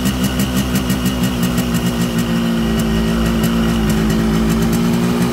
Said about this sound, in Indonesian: mesin kita hidupkan dulu.